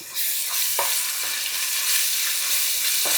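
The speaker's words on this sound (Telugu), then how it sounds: "ఆనియన్స్ ఇలా గోల్డెన్ బ్రౌన్ కలర్ వచ్చాక అల్లం వెల్లుల్లి పేస్ట్ వేసి వేపాలి." Onions fried golden brown, now frying with ginger-garlic paste in a pan for restaurant-style chicken tikka masala curry: a steady loud sizzle with a few soft stirring scrapes, close and continuous, with no voices.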